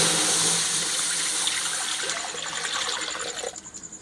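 Ten kilograms of pure buffalo milk poured into a kadhai for making dhooda, a steady liquid splash and gurgle running throughout, close and fairly loud, with no talking.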